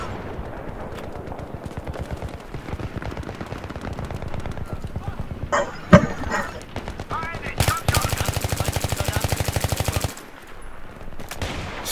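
Bursts of MP7 submachine gun fire in a Battlefield 3 multiplayer match, with rapid rattling volleys early on, a sharp crack near the middle and a sustained full-magazine burst later, all mixed with talking.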